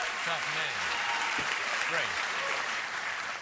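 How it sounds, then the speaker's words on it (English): Canned applause rolls on continuously while a voice shouts over it. "Canned applause."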